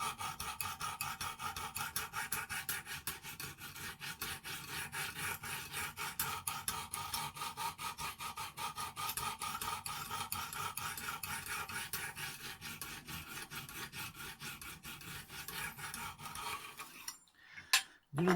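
A Lansky sharpener's stone rasps rhythmically along a Stedemon A01A knife blade of CTS 204P steel, with quick repeated close strokes throughout that stop near the end before a couple of handling knocks.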